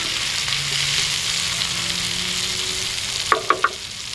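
Funchoza salad sizzles on a sadj pan outdoors at a country house, a steady close frying hiss with a faint hum, then three quick clinks near the end.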